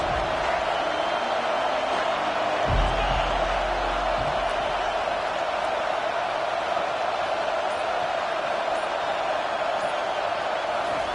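Crowd noise fills a college football stadium as a steady, broad roar of many people heard from a distance, with a brief low rumble early on.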